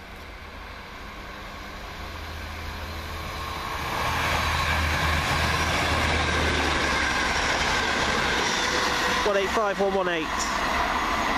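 A Newcastle to Manchester Piccadilly passenger train passing on the far side of a station platform: a broad engine and wheel rumble swells and holds steady, with a brief squealing tone near the end.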